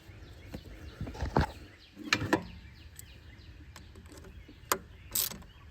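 A ratchet wrench clicks as it tightens a clamp on a Duramax diesel engine, with short bursts of rapid close ratcheting spaced by pauses and no talking.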